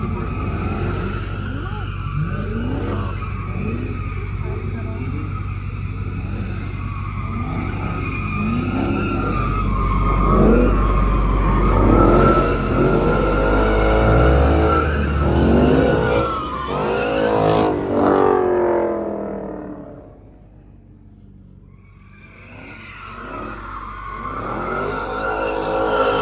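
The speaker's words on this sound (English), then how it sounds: "mash on the gas, and as soon as you start feeling the wheel spinning, like you're doing a burnout" A Dodge Charger Hellcat roars through a long burnout, engine held high while the rear tires spin and squeal loudly for about twenty seconds before the revs drop, then rise again briefly.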